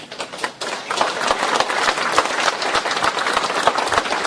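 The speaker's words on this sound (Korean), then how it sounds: "큰 박수 부탁드립니다." Dense applause from a lecture-forum audience welcoming a professor to the podium, building quickly after a brief lull and continuing as a steady patter of many hands.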